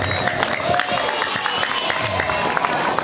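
An audience at a Ramadan religious lecture breaks into brisk, scattered clapping that is loud and near, with crowd murmur underneath.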